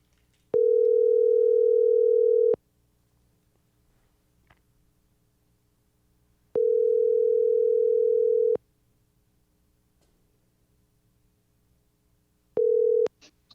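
A telephone line tone sounds while a call is being placed, three steady beeps of about two seconds each separated by silence, the last cut short, clear and alone.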